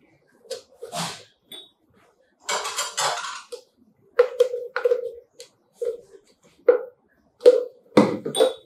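Venezuelan sweet bread dough ingredients, including milk, are mixed by hand in a bowl, giving scattered bursts of clinking, knocking and wet slapping separated by short quiet gaps.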